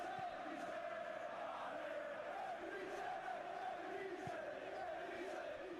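A stadium crowd in the eFootball PES 2021 video game gives off a steady, faint roar with swelling chants and cheers, continuous throughout.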